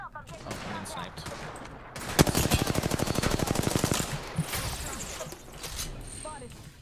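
Gunfire in the video game Apex Legends rings out in a loud, rapid automatic burst lasting about two seconds, with scattered shots and mechanical clicks around it and voices faintly underneath.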